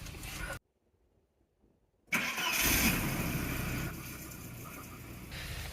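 A 1988 Volvo 740 that now takes a few cranks to start catches after a brief quiet gap and settles into a steady close idle, its running note slightly shifting partway through.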